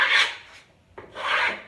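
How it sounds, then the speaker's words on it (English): Scraping chalk paint off a wood surface, two rough rasping strokes with a brief pause between, close and fairly quiet, with no talking. "I have scraped off a lot of this boho blue while I'm adding the pink."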